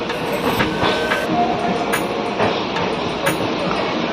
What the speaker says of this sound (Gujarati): આપણે ગોંડલ પહોંચી ગયા છીએ જો આજ ગોંડલનું રેલવે સ્ટેશન